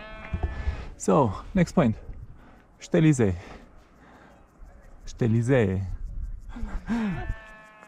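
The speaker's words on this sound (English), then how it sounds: "Some sheep." Sheep bleat on a hiking trail near Zermatt, a handful of loud, wavering calls close by in short bursts with pauses between, while a person speaks briefly during a gap.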